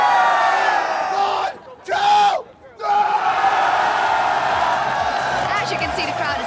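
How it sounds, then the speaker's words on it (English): A hyped crowd at an LCS esports event yells and cheers loudly, a dense roar of voices that dips briefly twice and then surges back. "As you can see, the crowd is absolutely hyped for a big day."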